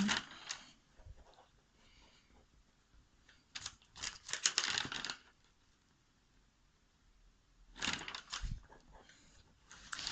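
Writing out equations by hand: bursts of pen or marker strokes scratch against the surface in clustered, irregular flurries separated by quiet pauses, close and fairly soft.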